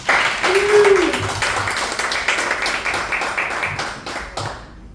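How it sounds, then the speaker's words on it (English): Applause from attendees at an in-person cancer awareness event in New York City, a lively burst of clapping that starts loud, gradually thins and fades, with a brief voice over the opening. "give yourselves a round of applause"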